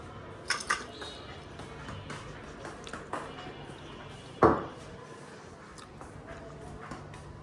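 Roasted nuts tipped into a small container in a home kitchen, giving a few soft rattling clinks and one sharper knock midway, with faint background noise and no talking.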